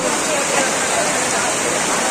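Steady rain, a dense and loud unbroken wash of falling water with no pauses.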